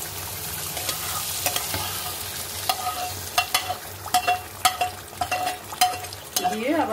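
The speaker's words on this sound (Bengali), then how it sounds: "এই ক্যাপসিকাম আর এই আদাটাকে, জুলিয়ান করা আদাটাকে একটু সতে করে নেব" Capsicum and julienned ginger sauté in a pan for capsicum chicken, a low steady sizzle under repeated clinking spatula strokes that grow quicker and louder toward the end, close by, without speech.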